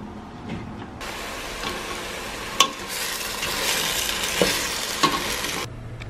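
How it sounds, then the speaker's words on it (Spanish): Onion, tomato and chile sautéing in a pan, a constant close sizzle with scraping stirs and a few sharp knocks of the utensil against the pan. "estoy guisando la cebolla, el tomate y el chile"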